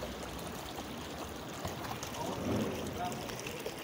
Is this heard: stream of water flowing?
yes